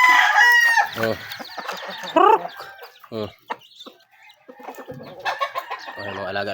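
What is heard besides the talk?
pet chicks chirping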